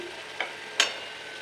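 A spoon stirs prawn curry for Bengali chingri malai curry in a pan, giving two short scraping taps under a soft steady sizzle.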